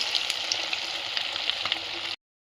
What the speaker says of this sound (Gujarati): હવે આપણે આ એક એક તેલમાં છોડીશું ગોલ્ડન બ્રાઉન થાય કલર ત્યાં સુધી આપણે એને ફ્રાય કરવાનો છે